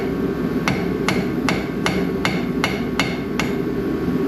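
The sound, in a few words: cold chisel hammered to pop out truck axle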